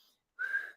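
A person whistles while inhaling, a single short, steady mid-pitched whistle after a brief silence, close and clear, with a faint breath at the end.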